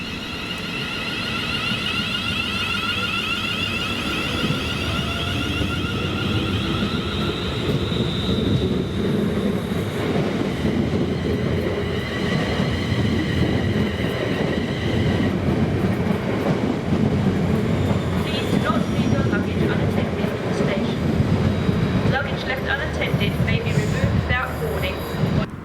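A London Northwestern Railway electric train, units 352.64 and 350.252, running through Stafford station toward London Euston with a sustained rumble and whine and a rising rattle of wheels on track, while someone talks over it.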